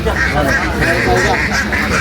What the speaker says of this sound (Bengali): এটা হচ্ছে চীনা হাঁস, তাই না?